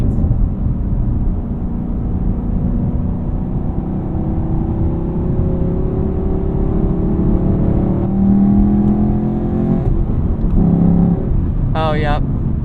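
A 2019 Camaro SS 1LE V8 with its exhaust in track mode runs with a steady, loud engine drone and rising harmonics as it pulls through the gears, ending in a brief high whine, while people talk over it.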